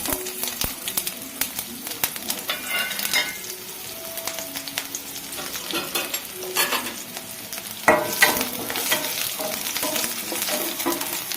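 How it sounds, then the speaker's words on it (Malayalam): Mustard seeds, fenugreek and two dried red chillies crackle and sizzle in hot coconut oil, a busy close-up stream of pops and spits with stirring, louder briefly toward the end. "നമ്മുടെ വെളിച്ചെണ്ണ ചൂടായി നമുക്കതിലോട്ട് കടുകിടാം."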